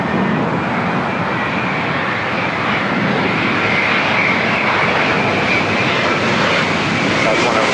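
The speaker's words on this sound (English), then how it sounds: "up next, Virgin Atlantic Dreamliner coming up from London Heathrow." Virgin Atlantic Boeing 787 Dreamliner jet arriving from London Heathrow at LAX, its steady broad engine roar loud and continuous throughout, with people talking faintly underneath.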